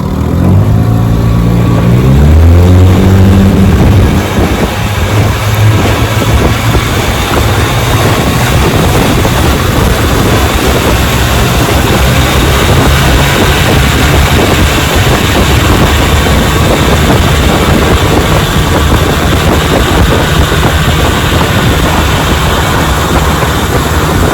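A restored 1957 Johnson Sea Horse outboard motor revs up and then runs steadily and loudly for a long stretch, a constant droning buzz with no pauses.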